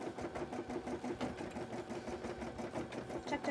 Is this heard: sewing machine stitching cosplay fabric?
yes